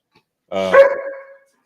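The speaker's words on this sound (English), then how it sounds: "That's what she's fucking barking at" A single loud dog bark, close by, ringing briefly before fading into silence.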